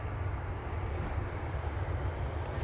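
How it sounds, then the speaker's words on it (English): Air Transat A321neo airliner on short final, a steady low engine rumble and broadband roar, fairly distant and unbroken with no voices. "We've got that 321neo coming in now on short final with some serious ribbonage"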